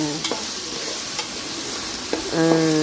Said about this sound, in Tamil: வெங்காயத்தை நல்லா 2-3 வெட்டி வதக்கிக்கிறணும்